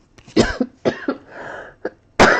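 Several harsh coughs in quick succession from one nearby person, with short gaps and a throat-clearing sound between them.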